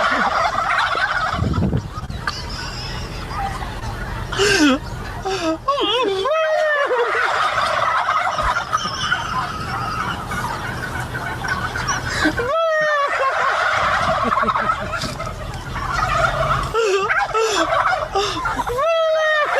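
Caged turkeys gobble loudly and repeatedly close by, several birds answering one another in bursts over steady background noise.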